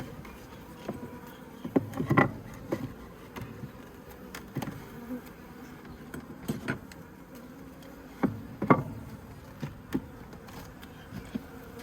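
Honey bees buzz around an open top bar hive while bars are reinstated, a close, low hum with individual bees droning past and occasional brief knocks and louder buzzing bursts.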